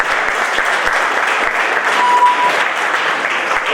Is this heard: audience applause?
yes